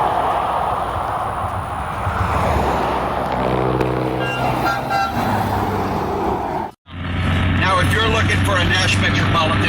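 A Nash Metropolitan car rolls downhill, its engine drone running under speech and horn-like tones before a brief cutout, then the drive resumes just as loud.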